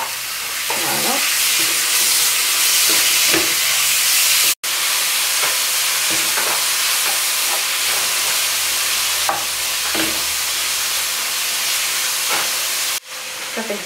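Vegetables fry steadily in a pan with a constant loud sizzle and hiss, broken by occasional stirring scrapes and short pauses.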